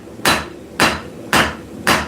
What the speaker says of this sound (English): My hammer swings do more in this main body of the anvil than they will ever do on that horn.